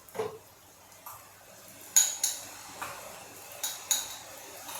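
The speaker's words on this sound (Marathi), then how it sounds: "या प्लेट या वाटीमध्ये मी थोडीशी चटणी काढून देते" A spoon serves chutney into a small bowl in a home kitchen: a handful of light, separate clinks and taps against the dish, spaced out and fairly quiet, with near silence between.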